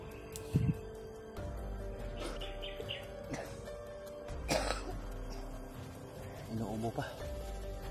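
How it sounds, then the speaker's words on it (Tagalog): Several short coughs and throat-clearing sounds break out between faint voices, with birds chirping in the background. "Inuubo pa."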